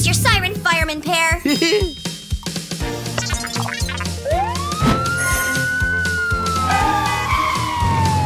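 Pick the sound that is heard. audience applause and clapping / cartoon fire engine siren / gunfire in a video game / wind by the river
cartoon fire engine siren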